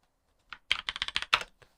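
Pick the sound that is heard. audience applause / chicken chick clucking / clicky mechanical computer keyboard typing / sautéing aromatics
clicky mechanical computer keyboard typing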